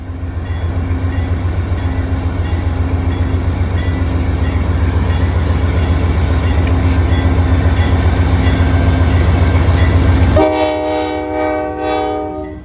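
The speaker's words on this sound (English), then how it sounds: "Another clay slurry train from Bellows Falls, Vermont to Portland, Maine, pulls its consist of tank cars through a snowstorm in Ayer," A clay slurry train of tank cars, running from Bellows Falls, Vermont to Portland, Maine, rumbles loudly past in a snowstorm at Ayer, Massachusetts, with steady wheel roar and a blaring multi-tone horn near the end.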